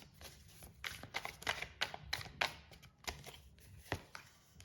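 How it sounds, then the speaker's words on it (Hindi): Tarot cards shuffled and drawn by hand: a string of soft, close riffling and snapping bursts with brief pauses, plus one sharper card slap near the end, with no talking. "एक और कार्ड निकाल लेते हैं, फिर इवन हो जाएगा नंबर ऑफ कार्ड्स"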